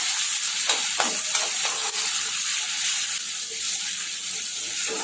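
Onion paste frying in a pan for chole, a steady bright sizzle with a few soft stirring knocks near the start.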